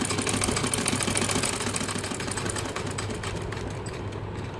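A sewing machine stitches along the length of a double bed sheet, its needle running in a fast, even mechanical chatter with a low motor drone, continuous and close throughout.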